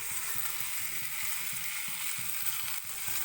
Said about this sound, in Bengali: সব কিছু দিয়ে এবার আমি এটাকে ভালো করে নেড়ে নিচ্ছি।